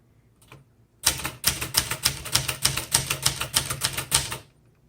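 Keys of a 1972 Webster XL-747 vintage typewriter clack in a fast, even run of about a dozen sharp strikes after a single early tap, close and loud with no talking.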